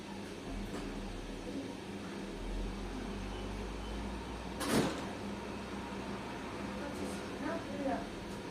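A door closes once in a home kitchen with a single short knock against a steady background hum, while people talk nearby.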